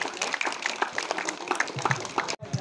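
Sustained crowd applause at a school award ceremony honouring successful SEE students and teachers at Sagarmatha secondary school; dense, steady clapping fills the whole stretch, with a brief dip near the end.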